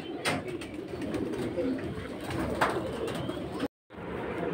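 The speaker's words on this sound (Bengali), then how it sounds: "এই যে দেখুন কবুতরগুলো" Pigeons coo at a pigeon market during rainfall, soft calls woven into a steady wash of rain and background bustle, with a brief dropout near the end.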